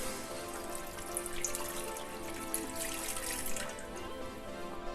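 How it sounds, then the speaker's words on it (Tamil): Continuous splashing and trickling water poured into a cooking pan, steady and close, with no voices. "இப்போது இந்த பேனில் கொஞ்சம் தண்ணி ஆட் பண்ணிக்கலாம்."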